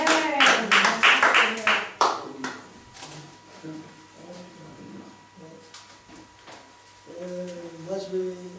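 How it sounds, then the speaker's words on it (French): A church congregation applauds in a burst of clapping over the first two seconds, then quiets to murmuring voices and a speaking man, with the talk rising again near the end. "Acclamez pour notre frère."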